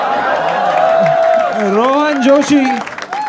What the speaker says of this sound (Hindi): तालियां हो जाए निहारिका के लिए।